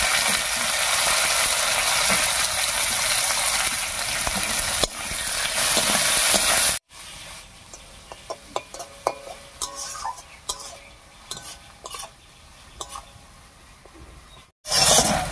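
Chopped onions and grated garlic sizzle in hot oil in a pan with a dense, bright hiss for several seconds, then quieter crackling with scattered clicks.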